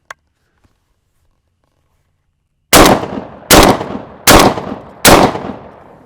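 A TriStar Viper Max semi-auto shotgun fires four 3.5-inch Magnum shells in quick succession, loud sharp blasts about 0.8 seconds apart with short echoing tails, after a stretch of near silence.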